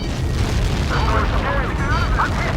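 Deep rumbling blast of a missile explosion in the Ace Combat 7 jet combat game, a heavy low boom that rolls on for a couple of seconds while radio chatter sounds faintly over it.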